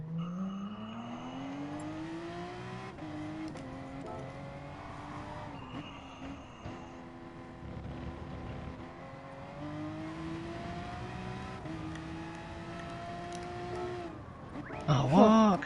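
Race car engine droning and shifting pitch as it drives laps in Gran Turismo Sport during a charity race, steady and fairly loud with a sharp squeal near the end, while people talk over it.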